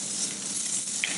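Spring onion being stir-fried with capsicum and carrots in a pan, a steady close sizzle and patter of tossed vegetables, no talking.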